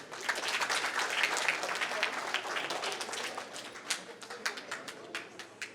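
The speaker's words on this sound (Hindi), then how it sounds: "आप तालियां बजा सकते हैं" A crowd at a talk in a Buddhist vihara in Dongargarh, Chhattisgarh, claps and applauds, dense and continuous at first, then thinning into scattered individual claps toward the end.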